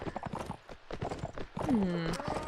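Horses galloping in the Mount & Blade: Warband video game during a Native multiplayer team match, with rapid hoof clip-clop and a whinny under overlapping commentary.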